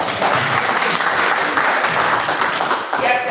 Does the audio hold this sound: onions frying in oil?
no